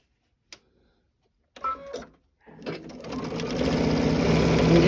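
After a few soft handling clicks and bumps, a sewing machine starts stitching a quilt block seam and builds into a steady, fast, close run of needle strokes that keeps going to the end.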